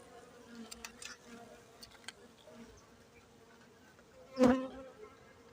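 Faint buzzing of honeybees around the listener at a hive frame, with a low steady drone and a brief louder buzz as one passes close.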